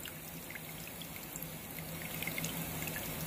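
Water pours steadily into the tub of a Speed Queen wringer washer, a continuous close rushing and splashing that holds a fairly even level throughout with no talking.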